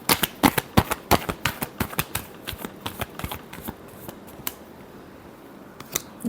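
A tarot deck being shuffled by hand: a quick run of crisp, close card snaps and riffs that thins out into scattered taps toward the end, with no voice.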